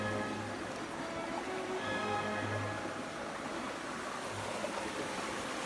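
Water flows along a small forest stream lined with young fig trees, a steady, broadband rush with a faint low hum running through it and no voices.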